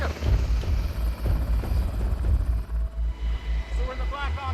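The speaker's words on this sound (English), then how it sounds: "we're in the Black Hawk helicopter thousands of feet into the mountains here" A Black Hawk military helicopter in flight high over mountains gives a loud, steady rotor thump and engine roar from inside the cabin, with voices talking over it.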